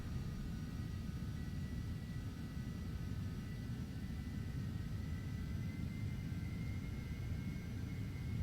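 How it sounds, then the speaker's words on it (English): Phenom 300 twin jet engines spooling up to takeoff power, a steady broadband rumble and roar with a faint whine on top, heard from inside and fairly quiet. "Takeoff power is set."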